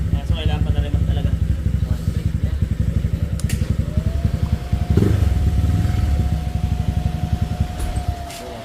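A Honda Click 200cc scooter with a dual radiator setup starts and idles with a steady, rapid putter, then revs slightly near the middle. Someone talks over the engine.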